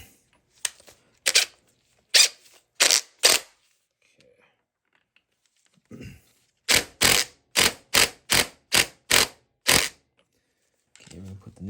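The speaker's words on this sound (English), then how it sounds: "I'm just going to use a impact on the light setting and just kind of gently put this down." An impact wrench on a light setting tightening the clutch nut of a Honda XR200 motorcycle fires in short, sharp rattling bursts, first a group of about five, then a pause, then a quicker run of about eight.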